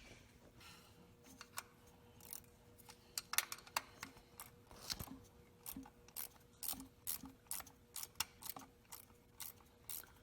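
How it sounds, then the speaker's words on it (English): A ratcheting socket wrench works on a GM engine's belt tensioner, giving a series of quiet, irregular clicks and ticks close by, with a few louder clacks among them. "Another ratcheting socket or wrench I have."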